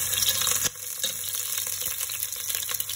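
Spare ribs frying in olive oil give a steady, close sizzle and crackle with scattered pops, continuing without a break.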